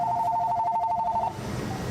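A telephone rings at an ice cream shop with a steady electronic tone that stops partway through, leaving the room's background noise.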